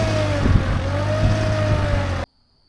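A 24 HP TYM compact tractor engine runs steadily at a constant mid-pitched drone, close and loud, with a faint whine on top, then it cuts off abruptly.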